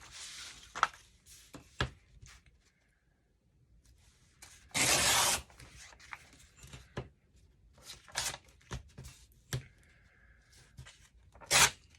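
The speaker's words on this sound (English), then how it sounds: "I think I'm going to kind of rip them up a little bit and then collage the rest" Paper being ripped up by hand for a no-sew glue book collage: a quiet run of short, scattered rips with one longer, louder tear in the middle and a final sharp rip near the end, no voices.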